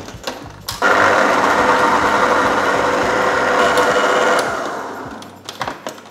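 An electric stand mixer beats coffee and honey cake batter with cinnamon and olive oil, a loud steady motor whir with rhythmic rattling that runs for several seconds, then winds down.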